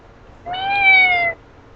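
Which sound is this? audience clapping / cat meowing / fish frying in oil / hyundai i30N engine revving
cat meowing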